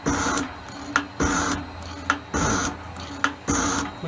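An Elliott 10M metal shaper taking a cut on a workpiece: a close mechanical rhythm of grinding strokes about once a second, each ending in a sharp clack as the ram reverses, with a steady hum beneath.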